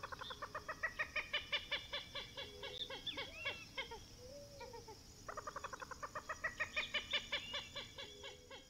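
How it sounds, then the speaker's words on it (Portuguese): A common gallinule, the American waterbird also known as the common moorhen, gives bursts of rapid, rhythmic clucking calls in two series separated by a short pause, clear and moderately near over quiet background ambience. "Esse é o incrível frango da água comum, o Galinula galeata. também chamado de galinha da água"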